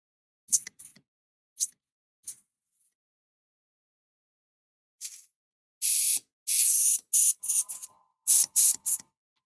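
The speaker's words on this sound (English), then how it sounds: "when you using your airbrush for some time" An airbrush sprays paint in short bursts of hiss, a few faint brief puffs at first, then several louder, longer sprays close by after a pause, with no talking.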